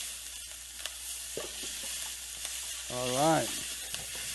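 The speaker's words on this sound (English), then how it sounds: "The mushrooms, when you cook them, they suck a lot of oil. So always make sure that's a beautiful sound." Mushrooms frying in oil in a pan give a steady sizzle, with a brief stir partway through and a short spoken remark over it.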